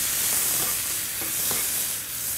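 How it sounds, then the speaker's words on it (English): Corn kernels sautéing in a hot pan give a loud, steady hissing sizzle, with faint stirring scrapes coming through now and then. "You always want to hear a little sizzle when you're cooking"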